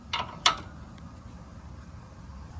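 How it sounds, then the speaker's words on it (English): A wrench working loose the 15 mm sway bar link nut on an Acura ILX during a front strut swap: two quick metallic ratcheting clicks close up, followed by faint background hum. "the next thing you want to do is take the sway bar link off"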